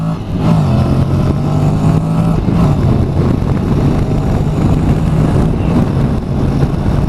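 A Honda NC750X motorcycle with its DCT automatic gearbox pulls away under hard throttle, giving a loud, close, continuous engine drone that holds steady throughout, with no voices.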